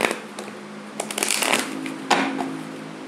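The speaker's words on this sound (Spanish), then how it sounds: "Vamos a sacar 5 cartas." Tarot cards being shuffled and drawn by hand, a close run of riffling flutters and soft slaps, with crisp card snaps at intervals and no talk.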